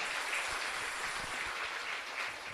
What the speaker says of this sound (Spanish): Y un fuerte aplauso para todos.